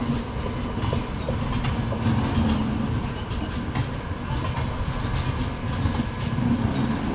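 The Humsafar Express sleeper train rolls past with a continuous rumble and rhythmic clickety-clack of wheels over rail joints, loud and steady throughout.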